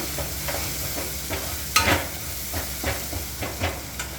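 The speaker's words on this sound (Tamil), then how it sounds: "கொஞ்சம் எண்ணெய் போட்டால் தான் நல்லாயிருக்கும். நல்லா வதக்கிடுங்க." Garlic for garlic thokku pickle sautéing in oil, a steady frying sizzle with repeated stirring scrapes of a spoon in the pan roughly every half second, one louder scrape in the middle, close and continuous.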